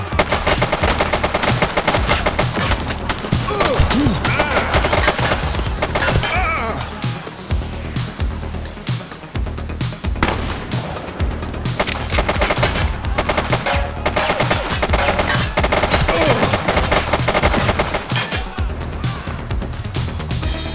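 Rapid automatic gunfire and single shots crackle throughout a police-themed video game firefight in The Precinct, dense and loud with bursts overlapping for the whole stretch.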